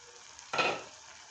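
Tomatoes cooking in oil in a pan give a soft broadband sizzle that swells suddenly with a stirring scrape, then fades back to a low, steady frying hiss.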